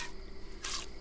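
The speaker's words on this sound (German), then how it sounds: "Ich melke dich und dann füttern." Milking an animal in The Sims 4 game, a brief squishy liquid spray sound, two short gushes of milk, close and clear with no talk.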